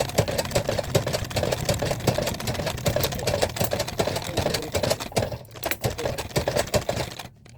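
A sewing machine stitches a thick pot holder in a steady, rapid mechanical chatter that runs continuously near the mic, breaking off briefly near the end.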